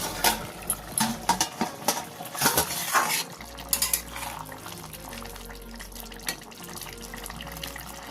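A pan lid comes off with clanks and a spoon scrapes as mushrooms are stirred, several sharp metallic knocks early, then a softer steady simmer with low hum.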